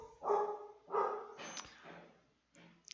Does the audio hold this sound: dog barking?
yes